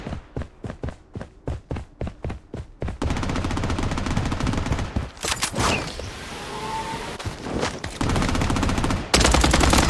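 Rapid gunfire from a defensive turret in the video game Blodstrike, starting as evenly spaced bursts, then merging into loud, continuous automatic fire with brief breaks, close and dominant throughout.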